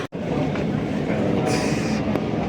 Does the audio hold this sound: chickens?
no